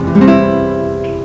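A single guitar chord from an easy beginner shape is strummed once, ringing out with sustained, slowly fading strings, close and clear with no talk.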